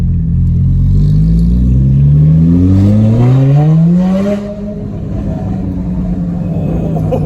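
A Porsche GT4 revs and accelerates through a parking lot at low speed, its engine note climbing loudly and smoothly through the rev range before the throttle lifts and it settles into a lower, steady rumble.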